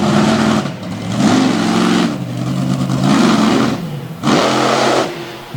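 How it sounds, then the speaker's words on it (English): Monster truck engine at a monster truck event, revving hard in repeated loud surges with short dips between, crushing cars, close and dominant with no talk. "Jefferson, Maine driver, Greg Winchenbach, putting the horsepower into some crush cars over there, standing it straight up and down"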